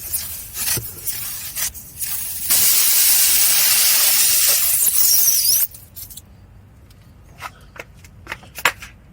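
A repair tool reams a tire puncture hole with rough rasping and rubbing strokes, then a loud sustained hiss for a few seconds, followed by quieter scattered scrapes and clicks.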